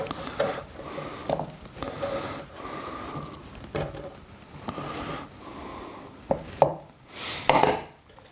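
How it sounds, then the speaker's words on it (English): A knife taps and chops repeatedly on a chopping board as mushrooms are topped and tailed for chicken fajitas, with sharp close strikes at irregular intervals and a soft sniff between cuts. "Just top and tail the mushroom"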